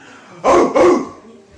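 A person imitates a dog, giving two quick barking "arf" sounds in a row, close and fairly loud, followed by quiet.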